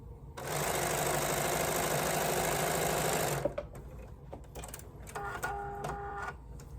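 A sewing machine runs in one steady, loud burst of about three seconds, stitching a quilt block for a 24-inch snowflake foundation-paper-pieced pattern, then stops, followed by quieter handling clicks and a short tonal beeping.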